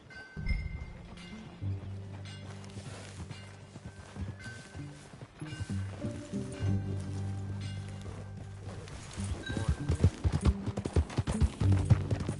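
Steady clip-clop of horse hooves at a walk, growing busier and louder toward the end, with faint clinks of tack.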